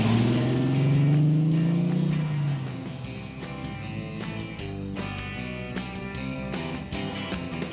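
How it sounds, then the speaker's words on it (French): A 1990 TVR S2 British sports car runs through its engine note, a loud rising rev that sweeps up and fades, followed by a steadier, quieter engine hum. "les TVR ont toujours été réputés pour avoir un son spécial"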